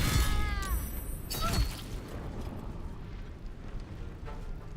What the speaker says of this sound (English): And now let's do a concussive smash.